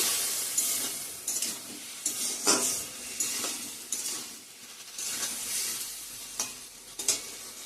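Ground coriander and cumin being stir-fried in a pan, heard as rhythmic spatula scrapes and clinks over a soft sizzle, close and moderately quiet, with no talking.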